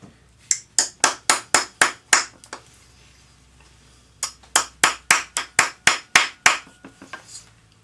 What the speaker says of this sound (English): Finish forming it with your rawhide hammer.